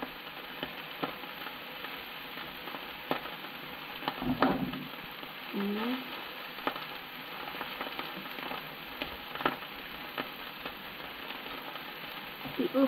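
Tomato frying in a pan as filling for a homemade beef sandwich, a steady soft sizzle running throughout with faint stirring scrapes and a few brief louder bursts.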